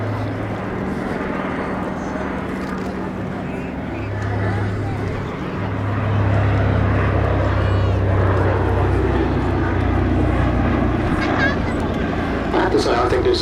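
A Consolidated PBY-5A Catalina flying boat drones overhead at an air display, its twin engines giving a steady, moderately loud hum that swells slightly midway while someone talks over it.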